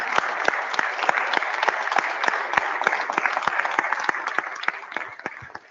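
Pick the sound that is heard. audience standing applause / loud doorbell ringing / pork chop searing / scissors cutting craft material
audience standing applause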